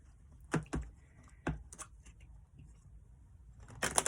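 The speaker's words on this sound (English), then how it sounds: "So I'm going to shuffle these cards" Quick papery riffling bursts, a few short tarot card shuffles with pauses between them, close and fairly quiet, with a louder flurry at the end.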